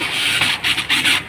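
Screws being driven into the back part of a digital rice cooker under repair for an E2 error, producing a steady close whirring of a driver with rhythmic grinding pulses.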